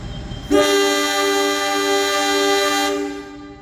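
A local train's brakes on the Cicalengka to Padalarang line let out a loud, sustained high-pitched squeal that starts abruptly, holds steady for a couple of seconds, then fades as it stops.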